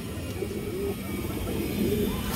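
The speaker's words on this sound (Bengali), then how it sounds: "বড় সাইজের একটা মাদি কবুতর" A large female pigeon with bright red eyes coos softly in short low bursts, close but quiet, over a murky background hum.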